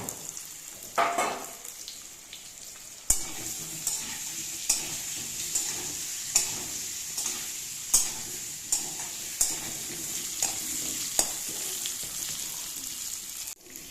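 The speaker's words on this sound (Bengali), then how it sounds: "মিডিয়াম হিটে এটাকে আলুটাকে আস্তে আস্তে ভেজে নেব" Spiced potato pieces fry in hot oil over medium heat, sending out a steady sizzle with a sharp burst near the start and regular stirring clacks of a utensil in the pan, close and without speech.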